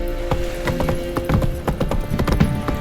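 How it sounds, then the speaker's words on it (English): Horse hooves clip-clopping in The Witcher 3: Wild Hunt, a quick uneven run of hoofbeats close by over a steady background of game ambience and music. "Whoa there, Roach."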